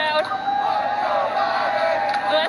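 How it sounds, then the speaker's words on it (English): A large crowd chants "Let's go Brandon" in a steady, sustained wall of massed voices that carries on without a break. "as you can hear the chants from the crowd"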